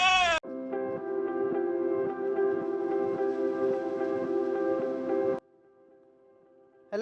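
A goat gives one long, drawn-out, wavering bleat, loud and close, held for several seconds before cutting off into quiet.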